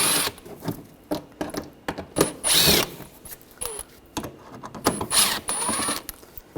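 A power tool with a T25 socket whirs in short stop-start bursts, backing screws out of the wheel liner of a 2004-2009 Audi A4 Quattro, close and fairly loud with brief pauses between runs.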